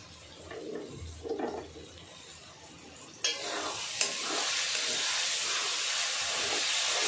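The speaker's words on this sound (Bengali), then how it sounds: "মশলাগুলো দেওয়ার পর ভালো করে কষে নেব।" Spices for chicken kasa fry hard in a hot pan, a muffled scrape early on giving way after a sharp clatter to a loud, steady sizzle and hiss that holds to the end, with no voices.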